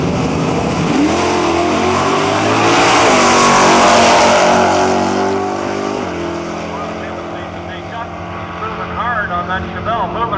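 A 572 cubic inch 1971 Chevelle and a Dart at a nostalgia drag race in Cayuga, Ontario, launch with a loud, roaring engine blast that swells, then fades as the cars pull away, with a commentator talking over it.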